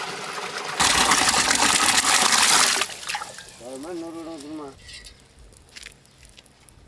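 A loud, broadband gush of water pours into a cooking pot of mutton mandi biryani for about two seconds, then fades into quieter kitchen clatter with a short burst of speech.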